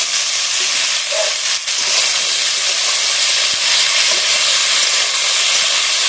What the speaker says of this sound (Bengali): এবার আমি দিয়ে দেবো কেটে রাখা আলু